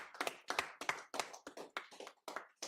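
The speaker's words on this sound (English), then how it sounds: "clap it up, clap it up" A congregation claps in a quick, steady rhythm at a high holy day gathering, with about a dozen sharp, distinct claps sounding close and fairly quiet.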